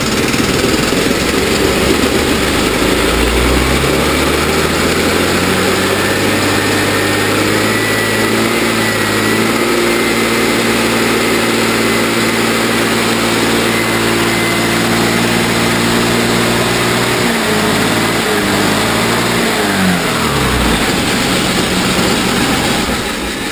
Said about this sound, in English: All that clanking noise is the centrifugal clutch